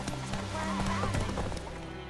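A horse trots in the video game The Witcher 3 Wild Hunt, with hooves clip-clopping at close range and a short whinny in the middle. A faint voice may sit beneath the hoofbeats.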